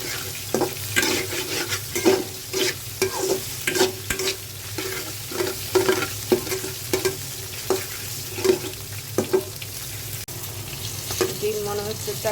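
Eggs for fried rice fry in a pan, a steady sizzle broken by rhythmic scraping strokes of a spatula stirring them, close and loud, about a dozen strokes in a regular pattern.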